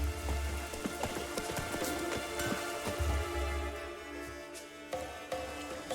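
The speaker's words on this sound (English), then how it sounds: "Raining fucking buckets." Steady, dense heavy rain in The Witcher 3 patters and hisses across surfaces, with scattered sharper drips and occasional low thuds underneath.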